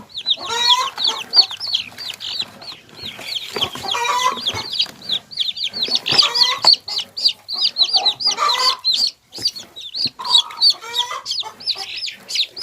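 Chickens cluck continuously and loudly close by on a farm, with dense overlapping calls and occasional sharper squawks running throughout.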